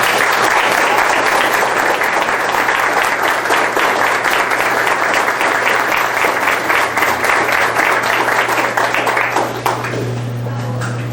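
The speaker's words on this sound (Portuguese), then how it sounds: "E a isso chamamos aplausos" A lecture audience in Santos applauds in a sustained, even burst of many hands clapping for about ten seconds, loud and close, before it quickly dies away into a low hum.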